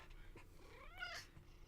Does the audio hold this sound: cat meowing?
yes